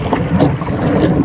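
Gusting wind buffets the microphone on a small fishing boat at sea at night, with water sloshing and slapping against the hull in short, choppy bursts, loud and close.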